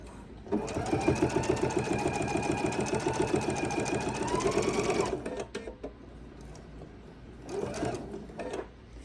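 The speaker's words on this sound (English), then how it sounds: "So I slow my machine down." A sewing machine stitches binding at slow speed, a steady rhythmic chatter of needle strokes for about five seconds, then a pause and a second short burst of stitching.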